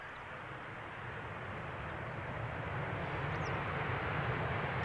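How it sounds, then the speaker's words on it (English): Boeing 737-800 inbound from Barcelona landing at Amsterdam Schiphol runway 18R, a steady broadband jet rumble slowly swelling in loudness, moderately distant, with no talk. "we are waiting for this 737-800 to touch down. Inbound from Barcelona."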